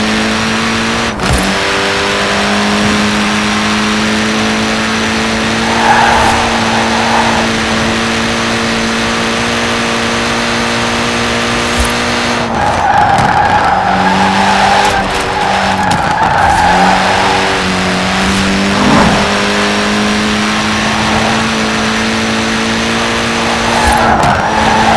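A Mini Cooper S in Forza Horizon 4 drives hard with a steady, loud engine drone, then its tyres break into long squealing skids, repeated several times across the run with no talk over it.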